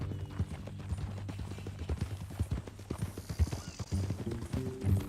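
Steady clip-clop of horse hooves at a walking pace in Red Dead Redemption 2, close and rhythmic, with a quiet voice speaking over it.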